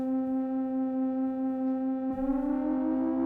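Ossuary synth on an iPad with glide fully up plays a sustained, harmonically rich tone whose pitch slides upward, with a brighter, buzzier shift partway through; steady and close, no voices.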